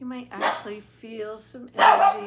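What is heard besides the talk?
dog barking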